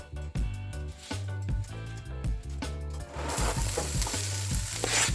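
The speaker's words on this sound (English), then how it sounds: "I'm gonna add a teensy bit more oil to the pan. And I'm gonna put the cabbage in here." Cabbage dropped into oil in a pan alongside sausages, starting with bumpy rhythmic clattering of utensils, then swelling into a loud, hissing sizzle that stays close and continuous.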